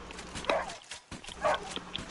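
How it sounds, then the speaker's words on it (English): A dog in Red Dead Redemption 2 gives two sharp, separated barks about a second apart, close and moderately loud over a faint game backdrop. "Don't kick the dog. Sedate it."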